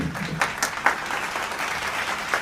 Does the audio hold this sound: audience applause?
yes